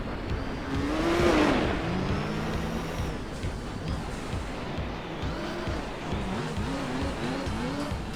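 A Nissan Skyline on dirt tires drifts in Gran Turismo 4, its engine revving loudly and rising in pitch, then holding a sustained, wavering drone with repeated throttle surges, close and continuous with a voice briefly over it.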